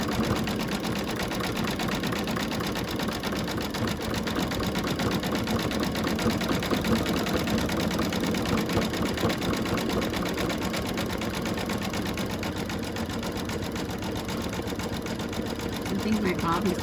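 An embroidery sewing machine stitches a snowman's nose outline, a steady, fast mechanical needle rattle running close and evenly throughout with no pauses.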